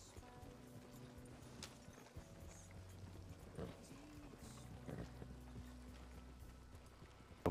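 Horse hooves clip-clop at a steady walking pace in the Western video game Red Dead Redemption 2, faint and low in the mix with a few soft mechanical noises around them.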